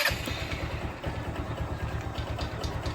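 A motorcycle engine fitted with a D-type carburetor runs steadily at idle after a one-click start, its low, even pulsing thump continuing close and alone without a break.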